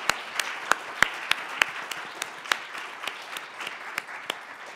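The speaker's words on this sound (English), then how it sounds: "Can we get a round of applause for them," A small audience at an arts talk applauds the panelists, with sparse, individual claps ringing out sharply over a softer patter, fairly close and lively for about five seconds.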